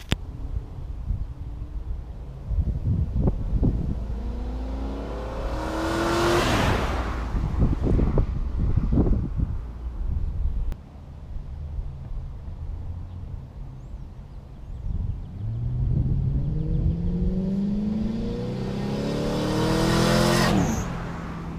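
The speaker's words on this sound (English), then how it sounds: "let's get you some drive-by sounds real quick" Small-engine go-karts with exhaust cut-outs race past twice, each building to a loud buzzing roar near the listener, then fading into the distance, with wind noise between passes.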